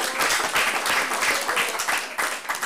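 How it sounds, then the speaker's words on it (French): Members of the Chalette town council applaud a newly installed colleague, a dense patter of steady clapping from a roomful of people indoors, fairly close and sustained for a few seconds with no voices over it. "On peut l'applaudir."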